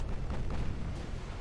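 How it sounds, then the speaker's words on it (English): Naval gunfire from battleship guns in a naval combat video game rumbles in a dense, continuous low roar of overlapping booms, loud and heavy throughout. "heard some big booms there."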